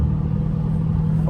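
A Dodge Hellcat fitted with a drag pack rumbles loudly up close with a deep, steady exhaust drone, a faint crackling texture running through the low roar, and no talking.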